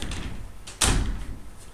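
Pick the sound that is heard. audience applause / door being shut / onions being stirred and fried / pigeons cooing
door being shut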